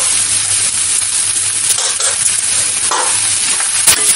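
Potatoes and onions with coriander powder and salt being stirred in a pan on low heat over a steady sizzle, with scraping and clinking of the spoon, loud and close.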